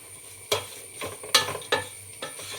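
A spice paste of coriander, turmeric and chilli powder with garam masala fries in a pan for Kerala chicken curry, with four or five scraping stir strokes over a soft, steady sizzle.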